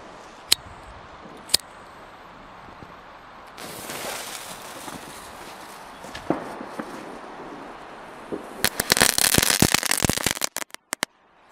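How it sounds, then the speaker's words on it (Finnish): Firecrackers going off at New Year: a few sharp isolated bangs early on, a hissing fizz in the middle, then a dense burst of rapid crackling pops near the end, close by and outdoors. "Ja mä jatkan tässä paukuttelemista"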